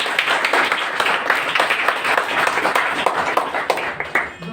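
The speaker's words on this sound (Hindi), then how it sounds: "बहुत बहुत तालियां बजाइए" A crowd at a motivational speech on habit building claps loudly and steadily for several seconds, a thick rapid patter of many hands with a faint voice underneath.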